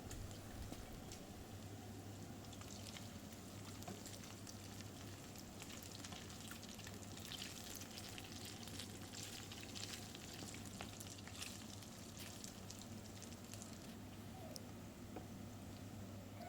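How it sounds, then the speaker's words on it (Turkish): Chopped onion and meat frying in rendered sheep tail fat in a pan, a steady close crackling sizzle with fine spitting pops throughout, continuous and fairly soft, no voices. "Soğanımızı əlavə edib, indi də soğanla birlikdə ətimizi qovuracağıq."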